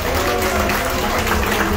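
Dense audience applause at an outing event for older participants, a steady wash of many hands clapping at once, loud and close throughout.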